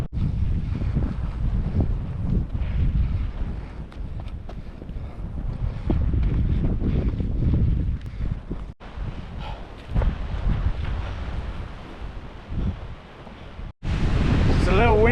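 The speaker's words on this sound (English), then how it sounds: "It's a little windy up here today." Wind blowing across a mountainside in Patagonia, gusty rumbling buffeting against the microphone that rises and falls in strong bursts for the whole stretch, with a brief cut and a sharper gust at the end.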